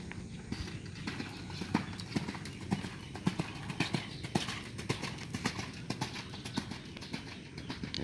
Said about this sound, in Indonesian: Ya, kudanya cukup besar ya, termasuk kuda kelas nih.